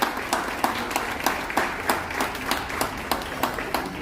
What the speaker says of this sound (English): Give all the officers and senior managers a big round of applause